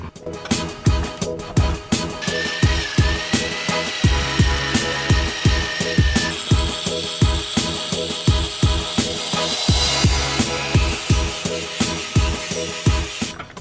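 A power drill grinds into metal with a harsh whine, punctuated by regular sharp knocks and clanks, fairly loud and close throughout.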